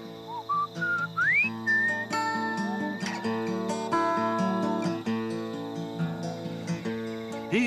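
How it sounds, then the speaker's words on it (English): A person whistles bright, rising and sliding tones to call a butcher bird, repeated phrases over a dense backdrop of insect chirring and other bird calls, fairly close and steady throughout. "That's the kind of whistle I whistle him up."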